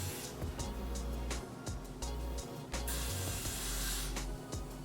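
Got2b hair spray hisses from a can in a string of short bursts with brief pauses between them, close and fairly soft, while a closure wig is styled.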